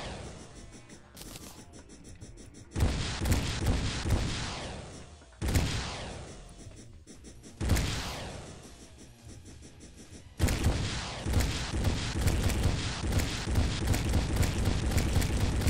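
Modded Terraria weapon fire aimed at slimes, heavy booming bursts that start and stop in several loud spells with quieter gaps between, then a sustained stretch of rapid shots toward the end.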